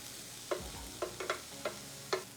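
Chopped stuffing vegetables browning in a pan, a low steady sizzle punctuated by five or six sharp spoon scrapes and stirs, close up and quiet, with no voices.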